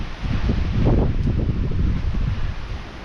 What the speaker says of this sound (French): il y a le vent qui se lève un petit peu